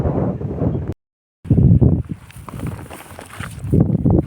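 Strong gusty wind sweeps across a cumin field and buffets the microphone with loud, rumbling roars, broken by a brief silent gap and then rising again.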